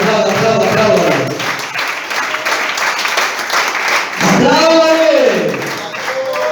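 A church congregation claps steadily throughout, a continuous dense wash of applause, while a preacher's amplified voice talks over it.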